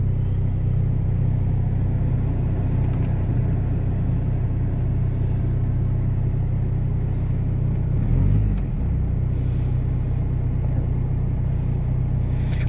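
A 2003 VW Passat B5.5 TDI diesel idles after a cold start following two weeks unused, a steady low rumbling drone close by, with a brief swell around the middle.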